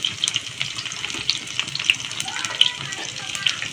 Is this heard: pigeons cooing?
no